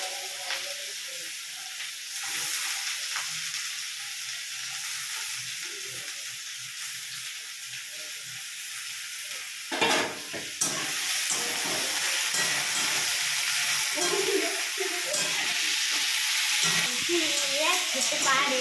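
Potatoes fry in a pan: a quieter crackle with stirring gives way to a sudden loud surge of sizzling hiss midway, which then stays strong and continuous.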